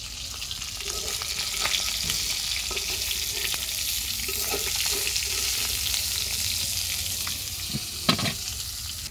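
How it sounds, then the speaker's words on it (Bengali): Onion and chili frying in oil left from frying pangas fish, a steady soft sizzle with intermittent spatula stirs and a sharper clack near the end, no talking. "ওই তেলের মধ্যে পেঁয়াজ মরিচ দিয়ে দিছি, ভাইজা তুলবো"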